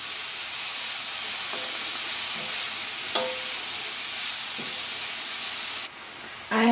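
Food being mixed in a hot pan for a plant-based eggplant lasagna, a constant broad hiss and sizzle with a few sparse scrapes and clinks of a utensil, no voices.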